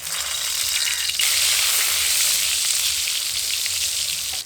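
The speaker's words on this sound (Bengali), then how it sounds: "এবার আমি শেষে পটলগুলো ভেজে নেব" Slices of pointed gourd (potol) fry in hot oil in a steady, dense sizzle, close and loud throughout with no talking, cooked for a traditional Bengali New Year thali.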